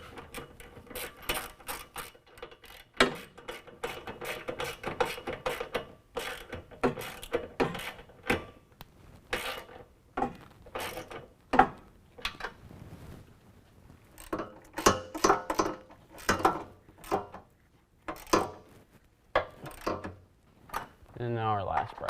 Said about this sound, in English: Now we can tighten up our next bracket.